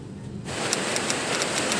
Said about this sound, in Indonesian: hujan Bro di Bogor, alhamdulillah